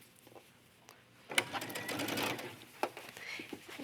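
Sewing machine stitching the binding along the back of a yoga top wrap, a steady close whirring run of a couple of seconds that starts abruptly and fades, with faint clicks before and after.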